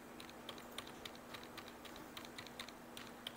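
Up and down arrow keys on a computer keyboard pressed repeatedly while editing in Premiere Pro, giving faint, light clicks at a quick, uneven rhythm over a quiet room hum.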